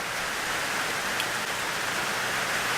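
Steady, dense rainfall hisses continuously, close and even, with no voices or other sounds over it.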